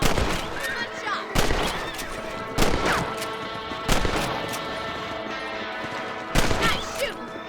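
Rifle shots ring out in the video game Red Dead Redemption, four or five sharp, loud cracks spaced a second or more apart over a steady bed of game music and ambience.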